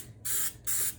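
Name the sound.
spray paint can spraying a motion sensor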